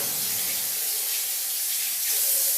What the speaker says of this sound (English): So you just open the top, wash your hands lightly with water.